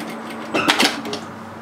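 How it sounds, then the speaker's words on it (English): A sewing machine tack-stitching bias tape into place on a shacket cuff, a short burst of close mechanical whirring and clicking that lasts under a second, then fades to quiet. "tuck that bias under and just tack stitch that into place"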